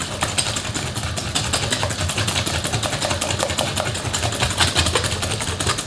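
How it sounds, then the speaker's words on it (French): An electric mixer whips four egg yolks with sugar for a chocolate mascarpone cake, a steady close-up motor whir with rapid rattling beater clicks running unbroken throughout. "Vous pouvez le faire au batteur électrique si vous voulez."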